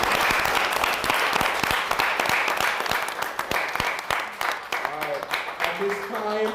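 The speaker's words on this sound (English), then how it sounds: "Let's give NCBA another round of applause." Sustained applause from a crowd, dense clapping that continues steadily, with a voice starting to speak over it toward the end.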